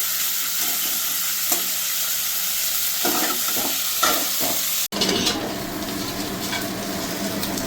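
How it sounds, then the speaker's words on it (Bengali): Prawns frying with green chillies in a pan give a dense, steady sizzle, with scraping stirs and clatters and a brief cut near the middle, and no talking. "এবার কাঁচা লঙ্কা চিংড়ি মাছটাকে ভালো করে একটু ভেজে নেব"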